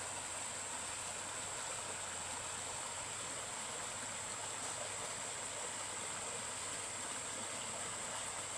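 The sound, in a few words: small mountain waterfall and stream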